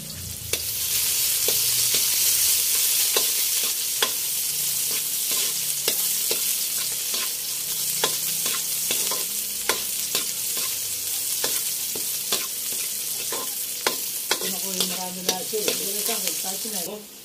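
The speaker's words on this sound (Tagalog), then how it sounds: "At atin na ilalagay ang ating sibuyas at bawang. Atin na po yung pagsasabayin." Onion and garlic sauté loudly in a hot pan, a dense continuous sizzle punctuated by frequent sharp spatula scrapes and clicks against the metal, close up, with a few faint voices near the end.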